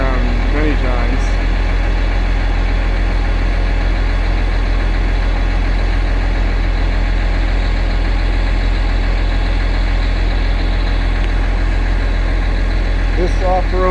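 An off-road utility vehicle set up for bare-hand power line work idles steadily, a loud continuous low engine rumble close by that lasts throughout without a break.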